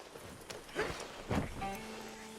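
A horse's hooves clop at a walk in Red Dead Redemption 2, two or three soft, muffled thuds under a steady ambient background, followed by a faint sustained tone.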